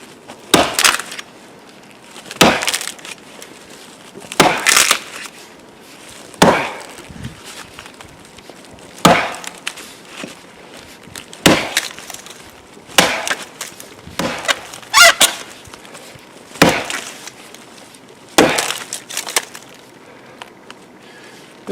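An axe chops into a standing tree during felling, with about a dozen loud, close, woody thuds spaced roughly every two seconds and a few faint scuffs between strikes.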